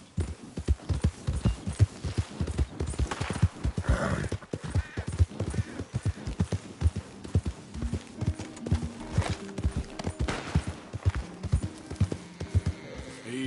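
Horse hooves clip-clopping at a steady riding pace in the video game Red Dead Redemption 2, a close, even rhythm of sharp hoof strikes that continues throughout, with an occasional faint snort in the background.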